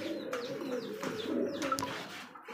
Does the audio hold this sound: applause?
no